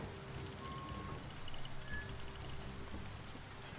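Steady rainfall in the video game Biomutant, a dense even patter of drops on surfaces with no talk over it.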